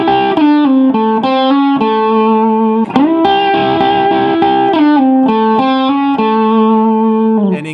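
A distorted electric guitar plays a blues rock lick, a flowing run of bent and sustained single notes with a sharp accent midway, loud and up close with no voices over it.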